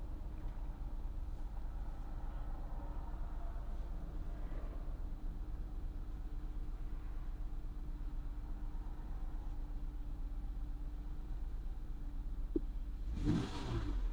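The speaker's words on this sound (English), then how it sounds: "car revs up." A Mazda 6 engine hums steadily at a faint, even level with a brief rise near the end as it revs up, no talk over it.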